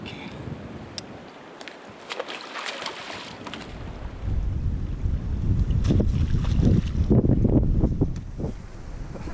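Strong wind gusts buffet the microphone outdoors on Nebraska public land, a rough low roar that swells and grows louder midway and stays heavy, with scattered rustling bits.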